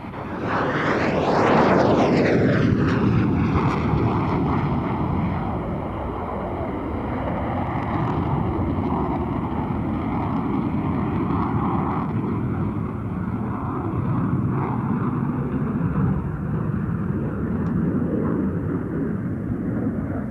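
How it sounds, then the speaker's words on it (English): MiG-21 jet aircraft in close formation roar overhead at an air show in a loud, sustained pass, the pitch sweeping down as they go by, followed by a lingering rumbling drone. "the remaining 3 aircraft perform a mock tail chase and, finally, some close formation passes"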